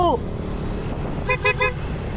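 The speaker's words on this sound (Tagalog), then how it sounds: "Ganda ng busina ko" A Bosch horn on a cafe racer motorcycle honks three short, sharp blasts in quick succession over road traffic noise, following a brief rising tone at the start.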